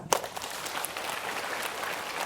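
A seminar audience breaks into applause, a steady wash of many hands clapping at moderate distance after a brief sharp onset, with no talk over it.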